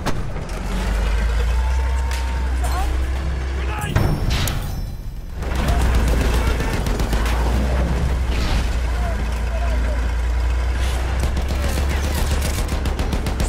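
Machine gun fire in the World War I shooter Battlefield 1 during an anti-aircraft gun and tank attack, rapid loud bursts over a heavy engine drone, a short lull, then sustained firing with game voices calling out.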